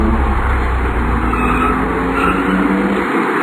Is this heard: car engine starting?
yes